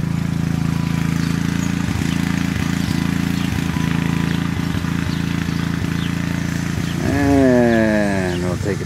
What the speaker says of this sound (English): We got a front end loaders moving around there.